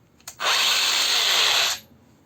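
Cordless Bosch GWS 125-18 V-Li angle grinder with faulty bearings spins up close and loud after a brief click, holding a steady harsh whine for over a second before cutting off sharply.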